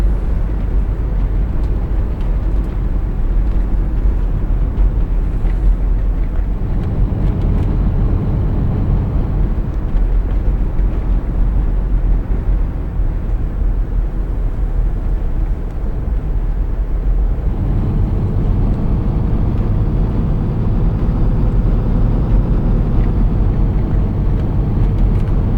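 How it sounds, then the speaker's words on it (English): Low, steady drone of a VDL coach bus engine in Tourist Bus Simulator, a continuous loud rumble that shifts in pitch and weight as the engine load changes, with no talking over it. "they were taking real engine noises from these coaches"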